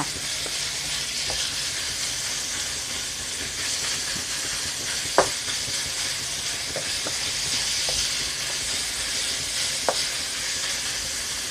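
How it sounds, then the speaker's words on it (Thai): Minced pork stir-fried in a pan: a loud, steady sizzling hiss runs throughout, with a few soft spatula taps and scrapes, close and with no talk. "ผัดหมูสับให้สุกค่ะ"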